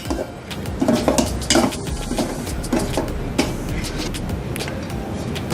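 Sweet pongal with fried raisins and cashews being stirred in a pot, a ladle repeatedly scraping and knocking the metal rim over a low rumble, close and fairly loud, no talking.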